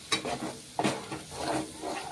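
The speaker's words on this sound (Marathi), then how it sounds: "आता छान असं मिक्स करून घेऊया, छान फ्राय करून घेऊया" Ground masala paste fried and stirred in a pan for egg curry, giving a soft close sizzle broken by a few scraping stirs, with no talking.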